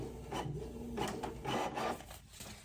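Printer running in a nail tech's packing workspace, a soft, close series of rhythmic rubbing and feeding swishes with faint mechanical whirs, low in level and without talk.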